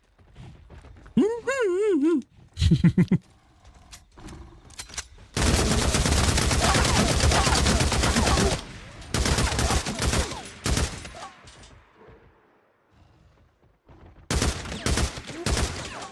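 Bursts of rapid gunfire in the video game Days Gone, several long sustained volleys and short clusters of shots separated by quieter gaps, loud and close, with a brief rising creature-like wail near the start.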